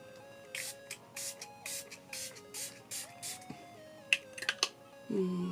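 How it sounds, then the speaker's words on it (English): She Glam Matte Fresh oil-control setting spray misted onto a face: a run of about eight short, crisp hissing spritzes in an even rhythm, close and fairly quiet, with faint tapping and a soft voice near the end. "I'm going to do a quick mist of the She Glam."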